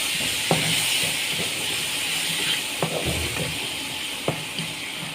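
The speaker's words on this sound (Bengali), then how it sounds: "মশলাটা কষিয়ে নেব" Spice paste for a jute-leaf and fish bhuna sizzles and hisses steadily in a pan, with a few sharp clicks of a stirring utensil against the pan.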